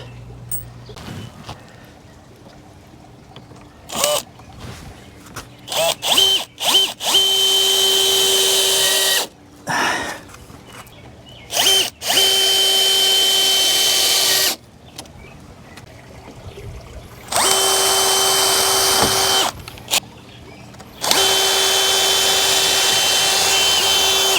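Power drill driving decorator screws into the top of a wicking garden bed: several short bursts and four longer runs of loud whirring, each a few seconds long, separated by quiet handling clicks and knocks.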